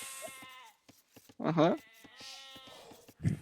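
A sheep in the video game Age of Empires gives a single clear, wavering bleat, close and prominent between short clicks and faint game sounds.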